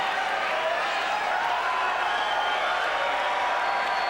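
Tennis crowd at a 2001 US Open quarterfinal between Hewitt and Roddick, a loud steady roar of cheering and applause filling the stadium throughout, with no clear break.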